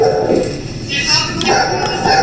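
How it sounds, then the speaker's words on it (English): A Shar-Pei mix dog barks and yips indoors at a house, loud and close, with overlapping voices talking throughout. "we can't hear you because of the dog."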